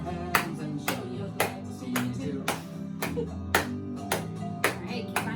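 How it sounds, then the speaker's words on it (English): Steady rhythmic hand claps, about two per second, ring out over backing music with a few voices. "And clap those hands."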